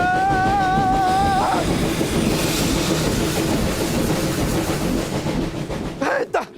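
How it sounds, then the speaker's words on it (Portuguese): A train rolls along a railway with loud rumbling and clattering wheels, preceded by a whistle-like horn blast and fading near the end. "Ah, então aquele trem que quase me atropelou aqui foi daí que ele veio."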